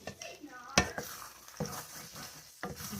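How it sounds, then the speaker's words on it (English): A spoon stirs pot pie filling in a pan on the stove, with scraping strokes, a sharp clack against the pan and a soft sizzle underneath, close and moderately loud. "Let's stir this up again."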